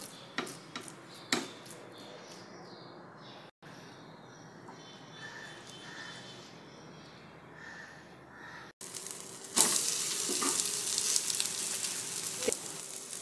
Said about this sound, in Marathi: बघा, थालीपीठ थापते मी तव्यावर